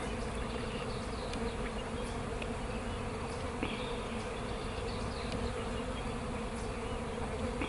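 Angry, stressed honeybees swarm around a disturbed hive, a dense, steady buzzing of many insects close by, with individual bees zipping past now and then.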